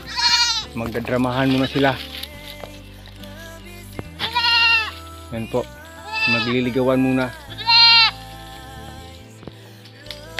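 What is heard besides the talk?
goats bleating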